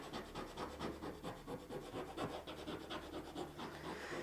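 Paper is rubbed firmly for an image transfer onto art, giving a quick, rhythmic back-and-forth scratchy rubbing, faint and close, repeating evenly with no talking.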